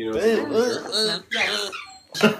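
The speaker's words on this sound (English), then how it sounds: "this dog apparently showed up" A stray female dog whimpers and whines in close, high, wavering cries broken by brief pauses, with a person's voice mixed in.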